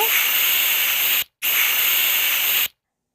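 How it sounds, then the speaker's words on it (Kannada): Pressure cooker whistling as it vents steam while cooking a spicy farm chicken and egg curry, two loud sustained hissing blasts separated by a brief gap, close and alone. "ಇವಾಗ ನಾನು ಮುಚ್ಚಳನ ಮುಚ್ಚಿ ಸುಮಾರು ಎರಡು ವಿಷಲ್ ಹಾಕಿಸ್ಕೋಬೇಕು"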